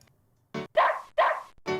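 Dog barking in the video game Oregon Trail II, three or four short sharp woofs in quick succession, close and clear against silence.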